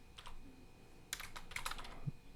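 Typing on a computer keyboard during Python pandas coding, a short bout of close, quiet keystrokes. A few clicks come first, then a quick flurry of taps after a brief pause.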